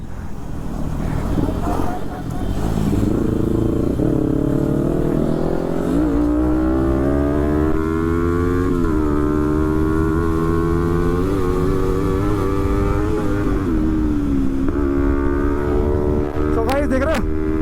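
Two Kawasaki ZX10R sport bikes race side by side, a loud, continuous engine roar with rising and falling revs that climb steadily through the gears, close and sustained under wind rush.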